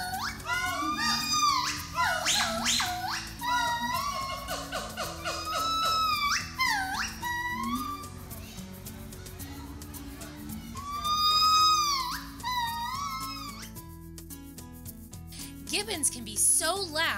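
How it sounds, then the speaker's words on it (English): Loud, rising and swooping whoops and hoots from white-cheeked gibbons singing at a zoo, with repeated phrases carrying over a steady background hum. "Gibbons can be so loud that you can hear them no matter where you are standing in the zoo."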